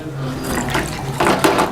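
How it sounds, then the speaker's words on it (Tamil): Water poured over boiled chicken in a kitchen to cool it, a steady splashing pour with a tap-like rush that swells louder toward the end, close and alone. "தண்ணி ஊற்றி ஆற விடுவோம்."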